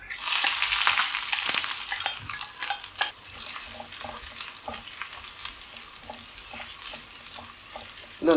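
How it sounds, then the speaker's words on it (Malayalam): Chopped shallots, fenugreek seeds, three dried red chillies and a pinch of asafoetida fry in hot oil for a raw mango curry, crackling loudly and close while a spoon stirs and scrapes the pan in an uneven rhythm. "ഇതൊന്ന് നല്ല ഗോൾഡൻ ബ്രൗൺ ആകുന്നവരെ ഒന്ന് ഇളക്കാം"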